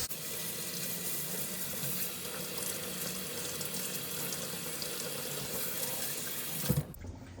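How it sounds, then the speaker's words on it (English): Running water flushing over a natural whetstone and straight razor, a steady close hiss and splash that cuts off abruptly near the end. "give everything a good flush with water"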